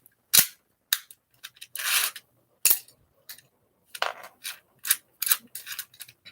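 Toy blaster launcher from a color combo battle, pulled and released in a string of sharp snapping clicks and ratcheting mechanical bursts, loud and close with irregular rhythm and no talking.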